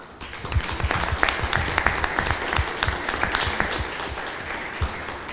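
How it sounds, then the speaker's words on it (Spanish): Scattered, uneven claps from a modest crowd at a community forum honoring a doctor and his family, with individual hand strikes standing out in an irregular patter that stays moderately quiet. "un aplauso grande para el doctor y toda su familia."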